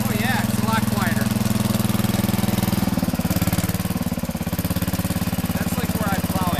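The engine of a Sears Suburban 12 garden tractor fitted with a new shusher muffler idles steadily at low RPM with a throbbing, rhythmic putter while people talk over it nearby.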